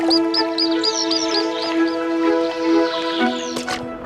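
Ducklings calling in a repeated series of thin, high peeping chirps close by, layered over a steady humming tone, with a few louder squeaks near the end.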